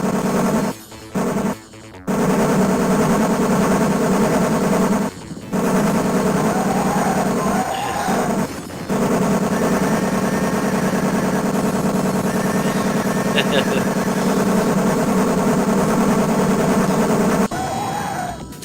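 Sustained gunfire from the 1991 TAD Corp/Fabtek arcade shooter Blood Bros., a dense continuous din of shots and game effects with a few brief dropouts, loud and steady for most of the stretch before cutting off near the end.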